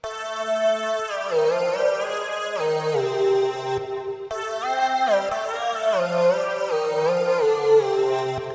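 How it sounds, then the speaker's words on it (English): A buzzy, bright synthesized mono lead from Ableton Live's Operator plays a melodic line with gliding, shifting pitches, metallic FM overtones layered on a sawtooth tone, steady and loud throughout. "Maybe use some FM synthesis on the saw wave as well."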